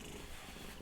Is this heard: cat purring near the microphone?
yes